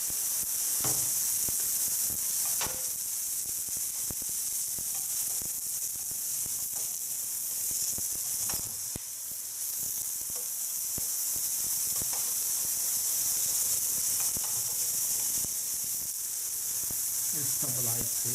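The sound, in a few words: beef patty sizzling while cooking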